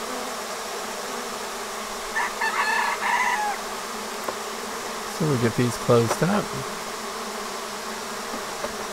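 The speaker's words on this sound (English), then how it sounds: "they're fanning and making so much noise" A steady, close buzzing hum of many honey bees fanning at a hive entrance drones throughout, with someone speaking briefly and a rooster crowing in the background.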